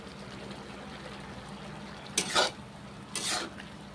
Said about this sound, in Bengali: ডিম ভাজাগুলো এবং কুঁদরি নেড়ে চেড়ে নিচ্ছি